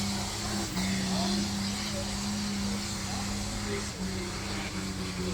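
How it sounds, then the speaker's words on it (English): Tractor pulling engines drone steadily in the distance at a steam rally, a constant mechanical rumble under outdoor background noise, with some talk nearby. "So you've got the tractor pulling going on in the background."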